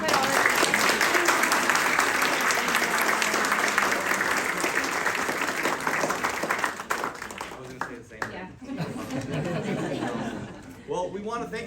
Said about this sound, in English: But Mrs. Bowers, I think she needs a round of applause